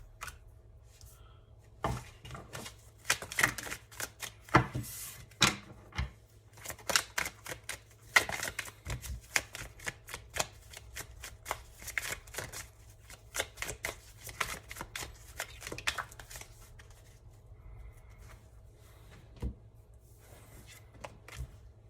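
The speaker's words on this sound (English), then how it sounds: "I'm just going to try to pull out 4 or 5 more cards" Tarot cards are shuffled and pulled from the deck, with repeated crisp riffling and flicking bursts in an irregular rhythm, close and fairly loud against a quiet background.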